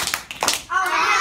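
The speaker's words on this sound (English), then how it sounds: "2 claps for our helpers" Children in a classroom give a couple of quick claps for their helpers, brief bright hand claps followed by a voice.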